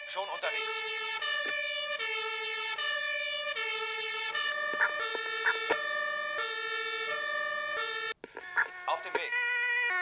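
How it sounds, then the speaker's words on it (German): Emergency vehicle sirens from the Emergency 4 video game wail loudly in a mix of alternating two-tone and rising horn patterns, one cutting off before another starts near the end. "das Martinshorn von den Fahrzeugen ist auch ein sehr, sehr schönes"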